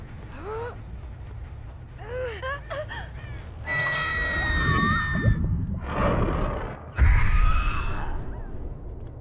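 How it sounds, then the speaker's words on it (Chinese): Crows in the horror game Dead by Daylight caw loudly in a series of harsh, wavering calls, one after another, with a gasping burst and game effects in between. "这个乌鸦是可以探测到柜子里躲着的人的"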